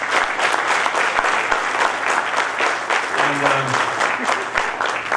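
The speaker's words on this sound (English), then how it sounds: "So a big round of applause to all the performers." A large audience at a convocation ceremony applauds the performers with steady, dense clapping throughout, a single brief spoken word and some faint tonal sounds briefly under the clapping.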